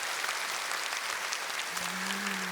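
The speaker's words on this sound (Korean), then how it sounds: "수고했다고 감사의 박수 하겠습니다" A church congregation at a Sunday service claps in thanks, a steady wash of applause that fills the whole short stretch, with a faint tone entering near the end.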